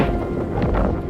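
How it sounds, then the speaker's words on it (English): Storm wind buffets an outdoor microphone, making a steady, loud, low roaring rumble with gusty surges throughout and no voices. "Again, sorry for the wind."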